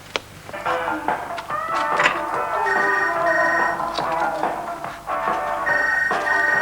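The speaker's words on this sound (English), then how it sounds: "Mom, phone!" A telephone rings repeatedly in a 1987 British television soap scene, its bright electronic tones sounding in bursts over a steady indoor background.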